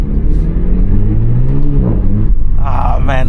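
A 2024 Renault Megane RS 300 Trophy, 300 hp, hums with a steady low engine drone while driving at moderate speed, heard from inside the cabin. Near the end, a brief higher-pitched whir rises over the rumble.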